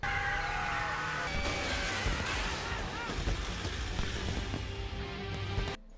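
A car speeding away from a factory in a film escape scene, its engine roaring loudly under a dense action soundtrack, with siren-like wails and tire screeches, cutting off abruptly at the end.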